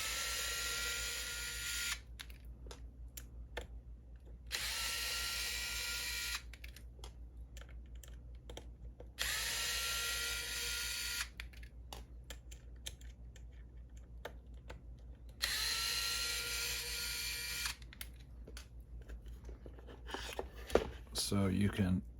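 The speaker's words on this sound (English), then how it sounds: "The way that you have to do that is to loosen these 4 bolts." A small power driver loosens four bolts on the ESC and receiver plate of a CEN Racing F450 RC truck, in three whirring bursts of a couple of seconds each, close and separated by quiet pauses with light clicks.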